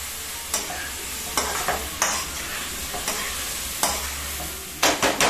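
Vegetable hakka noodles with Manchurian masala are stir-fried in a pan, giving a steady close sizzle broken by repeated scraping stirs at irregular intervals, with no talking.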